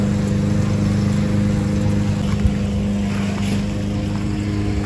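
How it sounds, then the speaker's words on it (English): A steady, loud motor drone with a constant hum runs throughout without pause, like a lawn mower engine running nearby. "out there mowing some grass"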